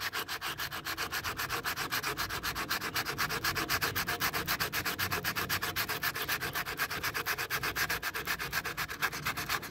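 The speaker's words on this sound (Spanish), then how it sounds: "Pues agarran su lijita con tantita agua." Wet sandpaper scrapes back and forth by hand on a pickup truck's bodywork in fast, even strokes, a continuous rhythmic rubbing with no voices, close and moderately quiet.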